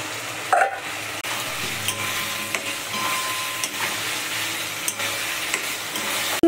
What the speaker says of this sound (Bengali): টমেটো দিয়ে ভালো করে কষাবো এটাকে। কষানো হচ্ছে